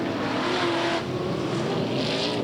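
Super sedan race car engine at Yandina Speedway, a steady loud roar of motor noise with a brief rise in pitch as the car charges around the dirt track, nearby and continuous.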